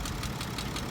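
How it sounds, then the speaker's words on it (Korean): A BMW 535d (F10) with an N57 diesel engine idles with a steady, close rumble, and an abnormal ticking repeats at a quick, regular rhythm through the short stretch. "딱딱딱딱딱딱 하고 주기적인 소음이 나요"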